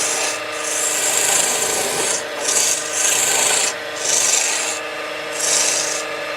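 A sharp woodturning gouge cuts a wooden pen blank spinning on a lathe, giving a loud, close, hissing rasp. The cutting comes in repeated strokes of about a second each, with short breaks between them.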